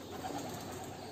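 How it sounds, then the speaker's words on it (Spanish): Pigeons stir inside the ruins of an abandoned church after a drone disturbs them, heard as a brief, faint, distant flutter and coo against the hollow room tone. "a las palomas que estaban recién, que no les gustaba mi presencia con el dron."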